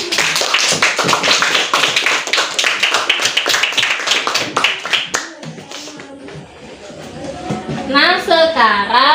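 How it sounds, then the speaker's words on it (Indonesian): A classroom group claps for a student team after a presentation, brisk loud clapping for about five seconds that fades, followed by voices talking. "berikan tepuk tangan untuk kelompok 4"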